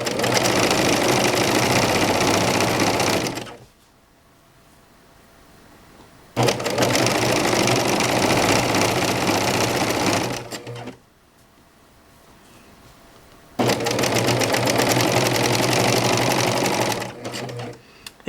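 A serger sewing machine stitches a pillow in three loud, steady bursts of rapid mechanical whirring, each several seconds long, separated by brief quiet pauses.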